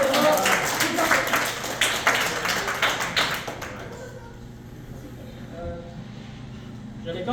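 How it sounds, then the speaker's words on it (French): Audience at the Wings Out 2025 gala in Savèches clapping, dense broadband applause for roughly the first four seconds that thins out and fades, with scattered claps near the end and a voice heard over the noise. "Vous pouvez applaudir pour Yves."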